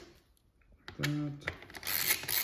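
A ratchet tightens a bolt on the integrated taillight mount of a 2021+ Aprilia RS 660 or Tuono 660, a short run of clicks up close, followed by rustling handling noise.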